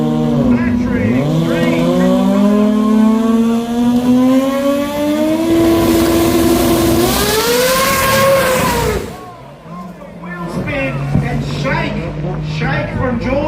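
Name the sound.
compound turbo 4G63 drag car accelerating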